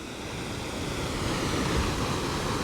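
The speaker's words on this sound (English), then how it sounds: "This is the Dudin waterfall." The Dudin waterfall pours with a steady, broadband rushing roar of falling water, loud and continuous throughout, with no voices over it.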